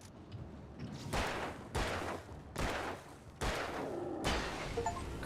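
Gunfire in the Alan Wake video game: four or five loud, sharp shots spaced about a second apart, each with a brief echoing tail over a low ambient bed.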